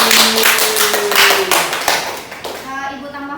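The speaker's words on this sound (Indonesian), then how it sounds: "Kita beri tepuk tangan." A classroom of children applauds together during an Indonesian science lesson on mixtures, the dense, steady clapping fading out after a couple of seconds as young voices chatter and call out.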